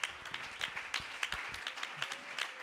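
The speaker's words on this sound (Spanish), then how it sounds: "Denle ese aplauso" Scattered claps ring out from a church congregation, separate sharp hand strikes in an uneven rhythm, fairly faint and heard a little way off.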